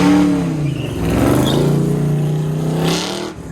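A supercharged 6.2-liter V8 in a 1968 Camaro races through an autocross course. The engine roars loud and close, its pitch climbing and falling with each throttle change over a few seconds.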